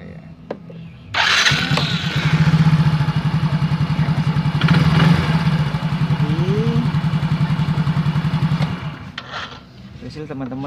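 A Yamaha Mio scooter engine starts up and settles into a steady, close, throbbing idle for about seven seconds, then cuts off. Brief voices are heard over the idle.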